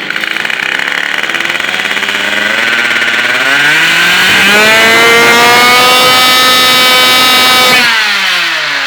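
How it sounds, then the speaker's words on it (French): A small two-stroke MBK 51 moped engine, a tuned stage 6 racing build, idles, then revs up high with a rising buzzing whine, holds, and drops back down; close and loud, no talking. "c'est quand même un moteur qui monte assez bien dans les tours"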